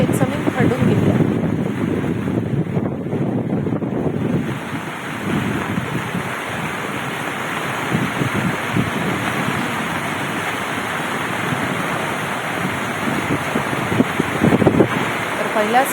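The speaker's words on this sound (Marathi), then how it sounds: "ओढे, नाले आता दुथडी भरून वाहू लागलेले आहेत" Streams and drains in Parbhani run brim-full after the first heavy monsoon rain, a loud, steady broadband rush of water, with wind buffeting the microphone and no clear speech.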